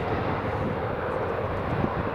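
A British Airways airliner touching down at Edinburgh Airport, a distant, fairly faint steady engine rumble with no talk.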